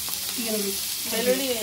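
Onion and garlic sizzle in hot oil for a tempering, a steady bright hiss that runs throughout while someone talks over it.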